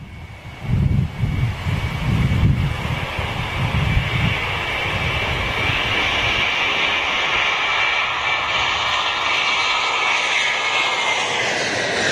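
A jet airliner with CF6 engines lands at Manchester, its loud, steady engine roar and rushing air filling the scene up close, with heavy low rumbling thumps early on as the undercarriage settles.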